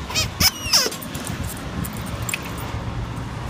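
A puppy gives two quick high squeaks close by, followed by quieter faint whimpers over a low background rustle.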